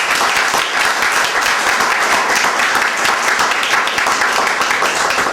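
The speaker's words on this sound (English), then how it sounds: "I'd like to ask all of you to join me in giving them another round of applause, please." A contest audience at a Toastmasters club event gives a sustained round of applause, dense and steady clapping filling the room for several seconds, loud and close with no talk over it.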